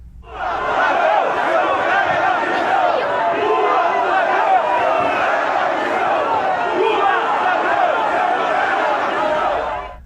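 A large crowd roars and jeers at the arrival of the president at an event on the São Paulo coast, a loud, dense, sustained wall of voices lasting several seconds.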